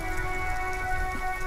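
Steady rain falling in the video game Disco Elysium, a dense continuous patter with a sustained tonal hum of game ambience running beneath it, no voices.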